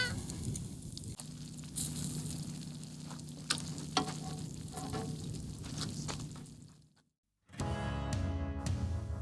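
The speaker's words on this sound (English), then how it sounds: "with the beautiful tomato sauce that I made from scratch, of course, and let it simmer for a" Homemade tomato sauce simmers in a pan beside grilled meatballs for pasta, giving a steady close sizzle dotted with small pops. It stops abruptly into a brief silence before a different, denser sound resumes.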